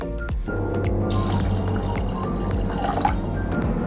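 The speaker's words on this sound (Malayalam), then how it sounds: "ഇനി നമുക്കിതിലേക്ക് ഇത് വേവിക്കാൻ ആവശ്യത്തിനുള്ള വെള്ളം ഒഴിച്ച് കൊടുക്കാം." Water pours onto rajma in a pot for cooking, a continuous close splashing, gurgling stream lasting a few seconds with no talking.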